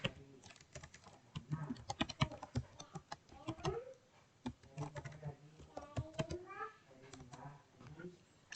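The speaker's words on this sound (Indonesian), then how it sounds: "di sini dapat ketik saja download WinSCP" Typing on a computer keyboard while entering a search for WinSCP, heard as quick irregular key clicks at close range, mostly alone with brief pauses.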